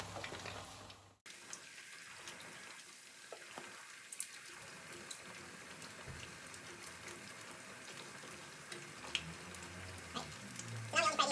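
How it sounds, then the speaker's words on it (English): Pieces of bagnet pork frying in hot oil, a soft, continuous sizzle and crackle with small pops scattered throughout, preceded by a brief louder noise and faint voices at the start. "Now we only fry these for a few minutes, 3 or 4 minutes on each side."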